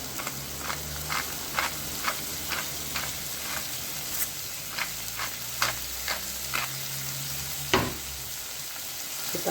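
Tomato and onion soup in a pot being stirred over steady sizzling heat, with a regular series of soft scraping strokes from the spoon against the pot.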